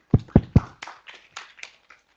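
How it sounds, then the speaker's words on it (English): A handful of audience members at a closing plenary clap, three loud claps up front, then scattered softer claps trailing off over the next second and a half. "Our applause, please."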